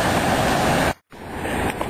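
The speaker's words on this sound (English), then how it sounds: "and that's the speed of that river and the power." Rushing water of the Niagara River, a loud, dense roar of fast current that drops out abruptly for a split second midway, then resumes just as strongly.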